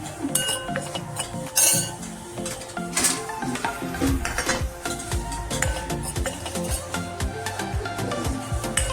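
Gram flour being dry-roasted in a pan on the stove for a Maharashtrian stuffed bitter gourd recipe, with a metal utensil clinking and scraping against the pan in frequent, fairly loud, irregular strokes.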